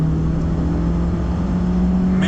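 A 1988 BMW E30 M3 with a 2.3-liter four-cylinder pulling hard through the gears, heard from inside the car as a steady, loud engine drone that holds its pitch without a break, with no talking.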